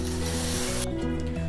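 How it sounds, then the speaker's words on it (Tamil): Pasta tipped into a pot of boiling water for creamy chicken pasta gives a loud, close, rushing hiss and bubbling that suddenly quiets partway through, leaving a softer simmer with no talking. "இப்போ நம்ம எடுத்து வச்சுருக்கிற பாஸ்தா ஆட் பண்ணிடலாம்."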